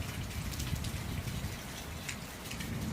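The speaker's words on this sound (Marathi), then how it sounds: "1 तारखेला हजेरी लावलेली आहे पावसाने." Monsoon rain falling steadily in a stormy downpour, a continuous dense hiss of drops hitting surfaces, even in loudness and without talk.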